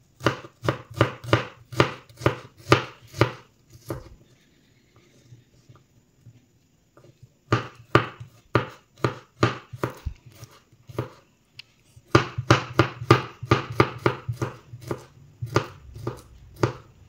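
Onion being chopped with a knife on a cutting board in a home kitchen, steady rapid knocks in three bursts separated by short pauses, close and loud, with no talk.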